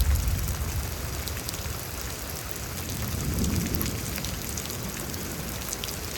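Heavy rain during a Houston thunderstorm: a dense, constant hiss of downpour with low rumbling thunder rolling underneath, steady throughout with no voices.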